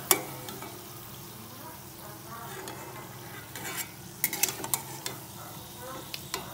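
Lote (Bombay duck) fish chops fry in oil with a steady sizzle, broken by sharp clinks and scrapes as the pieces are turned and lifted out of the pan.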